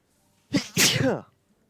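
A single loud, close sneeze with a short inhale leading into it.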